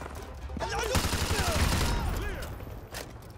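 Rapid gunfire rattles in Call of Duty: Modern Warfare 2 Remastered, with dense bursts of shots mixed with voices and the whine of passing effects, loud and sustained across most of the moment.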